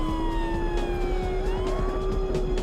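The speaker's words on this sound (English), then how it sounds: "already I am hearing sirens." Police sirens wail steadily through a street race in the PlayStation game Porsche Challenge, a rising and falling tone held over a constant engine drone for the whole stretch.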